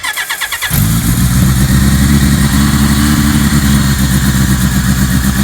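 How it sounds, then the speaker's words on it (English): A cold 1980 Kawasaki KZ1000 motorcycle with the choke on cranks briefly and fires up, then settles into a loud, steady, close-up idle with a rumbling exhaust that carries on alone. "The motor's perfectly cold now. It's been sitting for about a week. Choke is up. Turn the key on."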